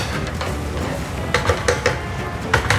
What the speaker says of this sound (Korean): 볶은 기름에 양파를 같이 볶아주시는 거예요